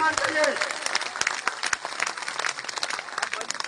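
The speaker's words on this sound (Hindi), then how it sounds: "एक बार दोनों हाथ से तालियां बजाकर कलरव से उनका सम्मान करिए।" A crowd applauding at a gathering, sustained dense clapping with sharp individual claps standing out, loud and close, a faint voice briefly audible at the start.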